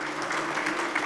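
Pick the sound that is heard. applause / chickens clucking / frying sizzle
applause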